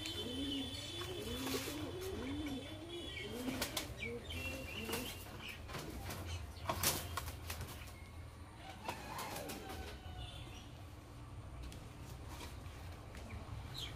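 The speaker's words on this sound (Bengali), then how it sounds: "বন্ধুরা এই পায়রাটা দেখাই তোমাদের" A Kaldama pigeon in a home loft gives a run of soft, repeated rolling coos close by, followed by scattered clicks, rustles and light bird chatter over a steady low background hum.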